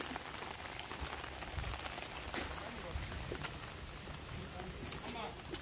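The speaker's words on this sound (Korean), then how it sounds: "비 오니까 좋다. 빗소리도 나고." Rain falls outdoors among trees near Museom Village's single-log footbridge in South Korea, a soft, even hiss of drops with occasional louder patters, faint and constant throughout.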